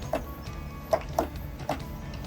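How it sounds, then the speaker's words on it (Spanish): A hand pump pressurizes the water tank of a drill cooling system with four short, sharp clicking strokes at an uneven pace. The strokes are close and distinct over a quiet background. "Y bombeamos el depósito"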